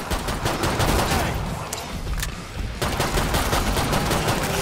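Rapid gunfire from weapons in the Killing Floor 2 video game during a boss fight, dense and loud bursts of shots with clattering impacts running throughout, dipping briefly midway before resuming at full intensity.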